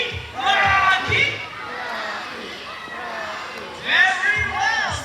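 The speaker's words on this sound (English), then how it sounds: "All the boys will cheer for Rocky." Boys in a bird-show audience cheer for a contestant bird, bursts of loud chanting voices rising at the start and again near the end, with quieter crowd murmur between.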